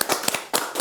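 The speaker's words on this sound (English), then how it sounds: "Big round of applause for Mr. Doull." A short burst of hand clapping at a cricket TV studio show, a handful of sharp claps at an uneven pace, with no voices.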